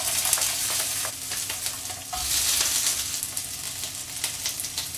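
An egg fries in oil in a pan for crab stick and lettuce fried rice, a loud, close, crackling sizzle that swells and spatters continuously throughout.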